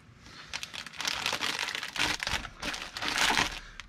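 A package mailer holding a thank-you letter is sealed, producing close, brisk crinkling and crumpling of plastic and paper in several quick bursts.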